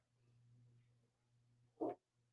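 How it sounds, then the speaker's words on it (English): A dog gives a single short bark near the end, preceded by low steady hum and quiet room tone. "Dog's barking."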